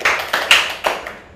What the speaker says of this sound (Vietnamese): Với cả lớp chúng ta dành cho bạn Nhật Anh một tràng vỗ tay nào.